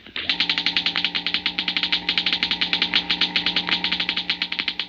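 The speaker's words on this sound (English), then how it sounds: "The crackling comes from a model atom smasher" A model atom smasher crackles in a rapid, steady train of sharp discharges over a constant electrical hum, close and fairly loud, running alone without any voice.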